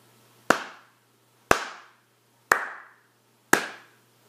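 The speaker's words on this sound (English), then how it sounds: "If I was going to clap this rhythm," Four single hand claps land one second apart, evenly spaced like quarter notes. Each is sharp and close with a short decaying tail, over a quiet low hum and no talk.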